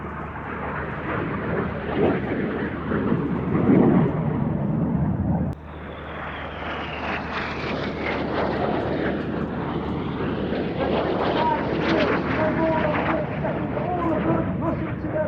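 Red Arrows display jets roar overhead while flying the circus manoeuvre at an air show, a loud sustained jet rush that shifts abruptly midway, with a rising engine whine, under a commentator's voice.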